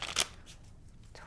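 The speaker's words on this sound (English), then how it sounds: "I pre-shuffled all the decks and cleared them, so I'm just going to shuffle a little bit more." Tarot card decks are shuffled by hand, a brief close riffle and flutter of cards with a louder burst at the start, then softer rustling.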